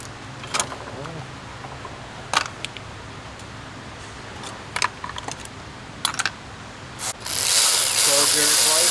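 Ratchet wrench turning a 13 mm nut on the support bracket of a 2015 Volkswagen Passat during a decarbonization job, heard as several short bursts of rapid clicking spread over the clip with quiet gaps, ending in a steady hiss.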